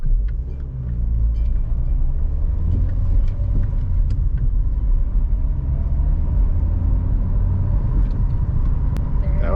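Manual-transmission car engine with a steady low rumble, loud and close, shifting down through the gears with small changes in pitch; no talking.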